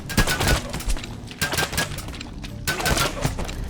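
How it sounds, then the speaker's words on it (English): Suppressive gunfire in a video game comes in repeated bursts of rapid shots, fairly loud and close, with short pauses between volleys. "This is suppressive fire, by the way."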